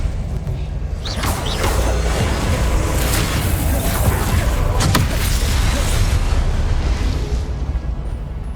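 Confringo and Incendio spell blasts erupt during a goblin fight in the Hogwarts Legacy video game: loud, dense bursts and booms with occasional whooshes, piling up continuously over a steady roar of battle noise.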